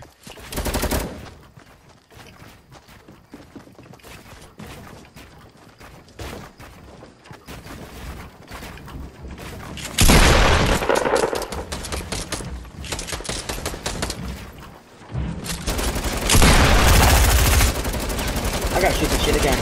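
Gunfire in a Fortnite battle royale match, bursts of rapid shots and automatic fire coming in clusters, loud and close, with people talking over parts of it.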